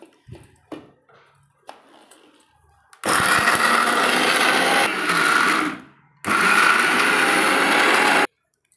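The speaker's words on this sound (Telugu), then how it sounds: "మిక్సీ చేసుకుంటున్నా" A kitchen mixer grinder (mixie) blending onions and spices into a paste: two long, loud whirring runs with a brief pause between, preceded by quiet clinks and handling noises.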